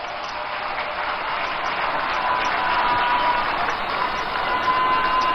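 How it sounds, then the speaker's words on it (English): Steady, dense crowd applause for NDC party executives and members at the 2024 manifesto presentation, a continuous wash of clapping held at an even level throughout with no voices standing out. "let's give all of them a round of applause."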